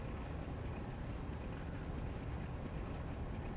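A diesel locomotive in the Railroader video game rumbles steadily at a constant, dense drone, with broad engine noise filling the whole stretch and no breaks or talk.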